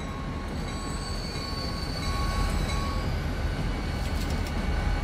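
A train in the game Transport Fever rolls along steadily with a low rumbling drone, faint metallic squeals and clinks riding over the continuous wheel noise.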